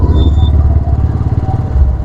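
A new black Royal Enfield Bullet motorcycle goes past nearby on a ride in Ahmedabad, its low, pulsing thump loud throughout and tailing off a little near the end.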